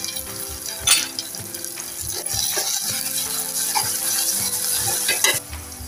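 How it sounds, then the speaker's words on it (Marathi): Chopped onion and coriander sizzle and fry in hot oil for a tempering in a home kitchen, with steady crackling and a few louder stirring clatters near the microphone. "कांदा थोडा परतून घेऊया"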